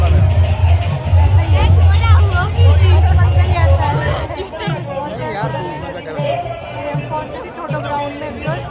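Crowd chatter at the state-level Shoolini fair on a ground, a loud close babble of many voices that thins somewhat toward the end, with nearby talk running throughout.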